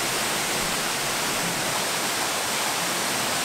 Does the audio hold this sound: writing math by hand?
no